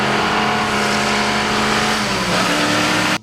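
A 1970 Chevrolet Camaro Z28 with a 350 V8 roars loud and close, its engine revving under a strong, continuous drone that cuts off sharply at the end.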